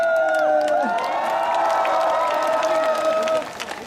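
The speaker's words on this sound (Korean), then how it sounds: "함성!" A large outdoor crowd at the 15th Chupungnyeong song festival in Yeongdong roars with cheering and applause, a sustained wave of voices and clapping that fades slightly toward the end.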